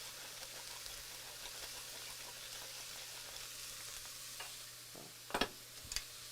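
Leeks seasoned with black and white pepper sizzle softly in a soup pot, a faint continuous crackle, with a few brief scrapes and knocks of stirring near the end.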